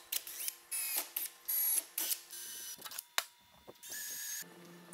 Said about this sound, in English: So I'm going to go ahead and screw this down.